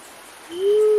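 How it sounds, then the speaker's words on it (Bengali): An unidentified night bird gives a single drawn-out, rising hoot beside a river at night, heard alone against quiet surroundings. "আর মাঝে মাঝে ডেকে উঠছে নাম না জানা কি এক রাত পাখি।"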